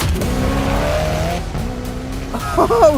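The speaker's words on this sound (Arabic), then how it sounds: "سبب كونها من أسرع السيارات محركها ذي ال8 أسطوانات والمزود بشاحن توربيني" A sports car with a twin-turbocharged V8 engine accelerates hard, its engine note rising, dropping at a gear shift and climbing again, close and loud, with a tire squeal near the end.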